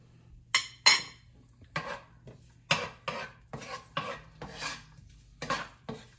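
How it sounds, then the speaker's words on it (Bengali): A metal spatula scrapes and knocks against a pan while onions are stirred, in about eight distinct strokes spaced irregularly with quiet gaps between, close and fairly soft, with no talking. "পেঁয়াজটা একটু নেড়ে"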